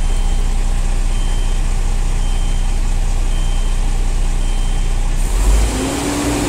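A Ford Euro 6 truck engine runs loud and steady at a constant droning pitch during a manual DPF regeneration, then shifts abruptly in tone near the end, with no talking.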